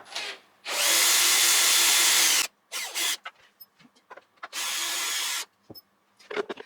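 A power drill removes screws in two long, loud whirring bursts, each a second or two, with small clicks and knocks of handling between and after them.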